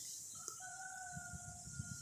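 Faint, distant crowing from neighbors' roosters, a long drawn-out call carried over a quiet outdoor background with a few soft knocks nearby.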